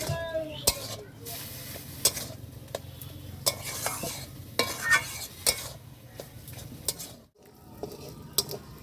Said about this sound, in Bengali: আলু টালুগুলো ভেজে রেখে দিই